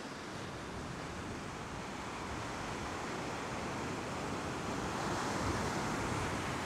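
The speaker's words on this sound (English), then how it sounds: "it's just the waves washing there" Ocean waves wash continuously onto a beach during surf fishing, a soft, distant, steady hiss of surf that builds slightly toward the end, mixed with light wind noise.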